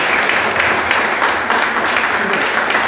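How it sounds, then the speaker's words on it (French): An audience at a conference-debate hall applauds loudly and steadily, a dense, continuous wash of many hands clapping throughout, close and full, with no voices standing out. "Donc je pense qu'on va les applaudir très fort."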